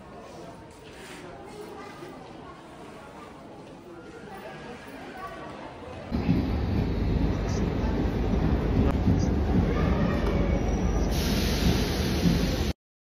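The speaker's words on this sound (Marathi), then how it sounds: "ही जी ट्रेन आली आता, ही यशवंतपूर एक्सप्रेस" The Yesvantpur Express pulls into a busy railway station, its rumble swelling suddenly into a loud, continuous roar partway through, with people talking throughout.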